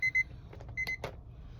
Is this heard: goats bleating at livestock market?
no